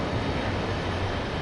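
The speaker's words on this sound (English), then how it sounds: "Oh, here's their train." A train rolls past in the Train Sim World 2 video game, a steady, loud broadband rumble with low droning tones and no break across the brief moment.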